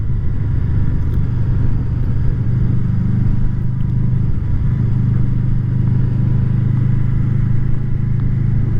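Honda VFR800 motorcycle engine on the ride over Hartside Pass, fitted with a K&N air filter: a loud, steady low rumble with a constant drone, close and unbroken throughout.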